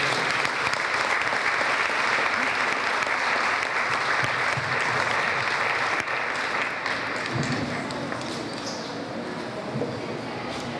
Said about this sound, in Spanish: con un fuerte aplauso le recibimos